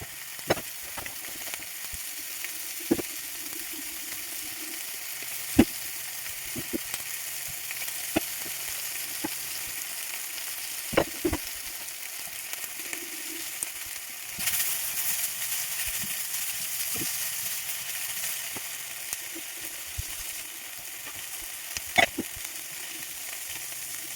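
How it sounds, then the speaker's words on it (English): Sweet and sour prawns sauté in a pan with a constant close hiss of frying, punctuated by scattered clicks and taps of a utensil against the pan. "Just let it saute for a while."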